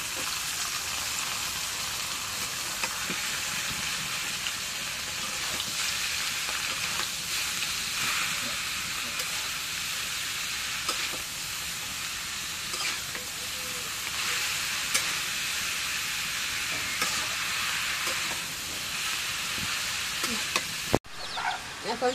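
Leafy greens sizzle steadily in a pan over fried chili and onion, a continuous moderate hiss with occasional stirring clicks, heard alone without talk.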